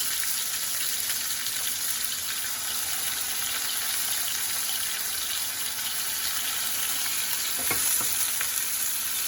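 Bacon-wrapped beef medallions fry in a pan with rosemary, giving a continuous loud sizzle and crackle with a couple of brief clinks or pops near the end, no voices.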